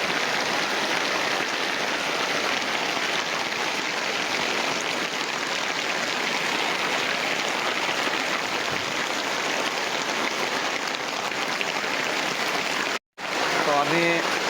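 Heavy rain pounds down at night during an all-night rescue operation in Thailand, a loud, unbroken roar of falling water that cuts out for a moment near the end before resuming.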